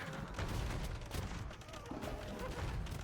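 Bombard cannons firing in the strategy game Warlords III, a cluster of booming shots and rumbling impacts over busy battle noise, fairly loud and continuous across a few seconds.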